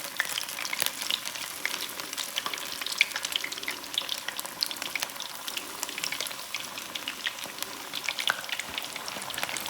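Cod fillets frying in a Lodge fry basket, a dense continuous crackle and sizzle of hot oil with fine spitting pops, close and steady throughout.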